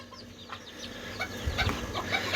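Young İspenç rooster chick with a white-speckled, gold-laced breast, clucking and peeping softly at close range in a farmyard with steady low background noise.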